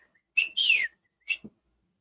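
Whistled imitation of a Northern Cardinal chirp, given as three sharp, close whistled notes: a short one, a longer downward-sliding one, then a brief final note, alone in silence.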